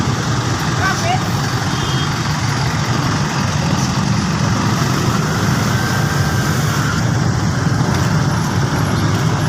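Dense road traffic jam with cars, trucks and motorcycles crowding a street, a constant loud wash of idling engines and roadway noise close by, with people talking over it.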